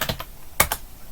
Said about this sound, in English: let's say you want to type just a dummy command